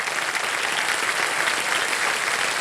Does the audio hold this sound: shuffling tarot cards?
no